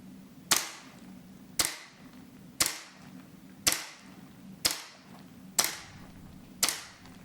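A TWS-9 gas blowback gel blaster fires eight sharp single shots, about one per second, through a chronograph, each crack followed by a short decaying tail, with no voices.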